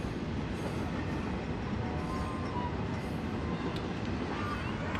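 A train passes on railroad tracks near a high school softball field, a loud continuous rumble with wheel clatter and faint squeals throughout.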